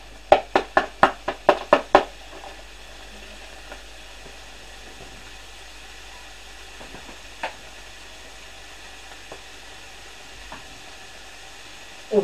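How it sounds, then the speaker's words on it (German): Bacon frying with onions in a pan for a Bavarian dish, a soft continuous sizzle running throughout after a quick run of sharp knocks at the start, with a couple of louder clatters later. "Als nächstes kommt der Speck und die Zwiebeln in die Pfanne und dann wird es erst einmal anbraten."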